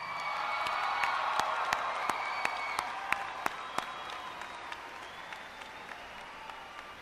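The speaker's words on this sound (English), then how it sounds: "I think the Vanguard class of 2010 deserves a huge round of applause." Large audience at a 2010 Vanguard High School graduation in Ocala, Florida, bursting into sustained applause, dense clapping that starts full and slowly thins out over several seconds, with scattered louder individual claps and faint cheers.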